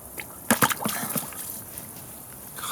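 A HiKOKI WH18DBDL2 impact driver dropped into a bucket of water, a brief cluster of splashes and sloshes followed by faint settling water, quiet and close.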